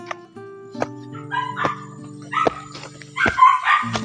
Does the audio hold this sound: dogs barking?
yes